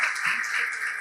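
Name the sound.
audience applause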